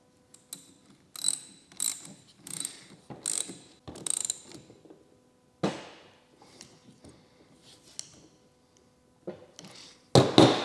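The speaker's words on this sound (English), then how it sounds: "I'm just gonna use an educated guess of a couple turns on a ratchet" A ratchet wrench clicks in several quick bursts while turning a bolt on a Mitsubishi Lancer Evo 8 transfer case, with short pauses between the runs of clicks and a louder burst of clicking at the end.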